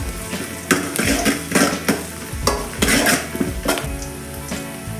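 Greens frying in a hot pan, loud and close, with a constant sizzle broken by repeated clattering stirs of a metal spoon scraping the pan.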